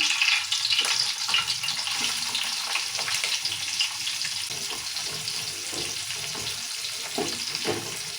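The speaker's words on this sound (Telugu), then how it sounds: "ఈ ఉల్లిగడ్డ మంచిగా వేగాలి ఇట్లా నెయ్యి నూనె వేసుకొని చేసుకుంటే" Onions frying in ghee and oil for chicken biryani, a steady bright hiss and sizzle that runs unbroken, with some soft clatter now and then.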